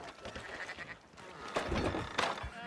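Sheep in the Red Dead Redemption 2 video game bleat several times, with two or three wavering calls standing out above a low ambient game background; faint voices are also present.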